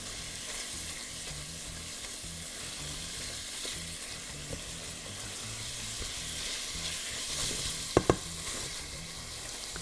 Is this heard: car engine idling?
no